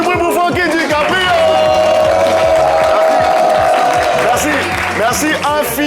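A live studio audience at a French comedy talk show cheers and applauds a guest, Fancky DiCaprio, with a steady, loud wash of clapping and crowd noise over music that runs throughout.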